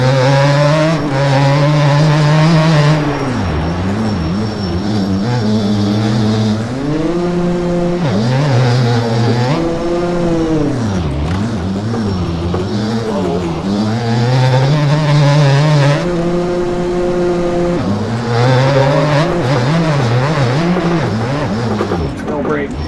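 A 2003 Suzuki RM 250 two-stroke dirt bike in the motocross game MX Bikes on the Walnut track, revving loudly and continuously with rising and falling throttle pitch through shifts and jumps.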